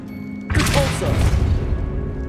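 The Repulsor spell goes off in Hogwarts Legacy as a sudden loud magical blast, a booming thump followed by a rushing, crackling burst that lingers for a moment.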